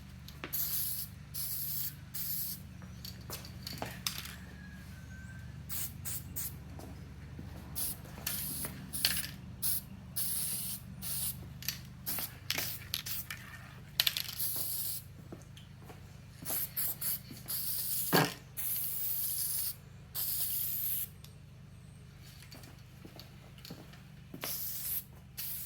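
Aerosol etch primer sprays onto small car parts in short, repeated bursts of close, loud hissing, separated by brief pauses as the can sweeps back and forth, with no talking.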